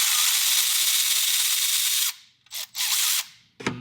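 A wrench ratchets against an upper intake bolt on a 2022 Ford 6.7 diesel engine, a loud sustained clicking burst followed by two shorter ratcheting bursts and a final clack, close to the microphone with no talk.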